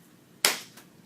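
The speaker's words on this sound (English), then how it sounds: "I'm going to do one of those action claps" A single sharp hand clap, close and crisp in an otherwise quiet room, with a brief fading tail.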